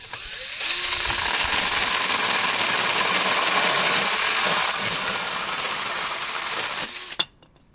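A small chainsaw attachment driven by a handheld drill cuts through thin pallet wood, a steady high-pitched buzzing whine running for about six seconds before stopping abruptly, close and loud, with no talk.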